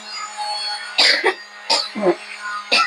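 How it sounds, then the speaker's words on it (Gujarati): Three harsh coughs come about a second apart, close and fairly loud, against a quiet background hum. "ઉધરસ દીધી કા"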